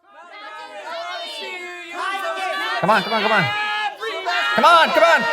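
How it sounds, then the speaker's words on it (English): A group of preteen children cheers and shouts at a church kids' show to vote for deep sea diver outfits, a loud, overlapping swell of excited young voices that grows toward the end, with some shouted words. "Start cheering now."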